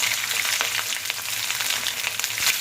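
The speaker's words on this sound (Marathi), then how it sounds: "लसूण सुद्धा ब्राऊन करायचं आहे कुरकुरीत करायचे आहे" Close, steady sizzling and crackling of garlic and chilli frying in hot oil, with no voices.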